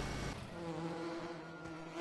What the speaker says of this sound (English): Oh, I need to buy some more bees. I always forget about the bees.